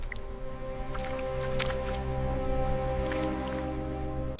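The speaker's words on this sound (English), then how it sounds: "the slurping of water" Wet, squishy slurping as a wildebeest drinks from a waterhole during the great migration, soft sucking and dripping sounds over a steady low background hum, with a few louder splashes.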